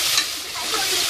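Finely chopped tomatoes frying in a pan for chana masala, a short burst of bright, close sizzling with a faint scrape of stirring and no voices.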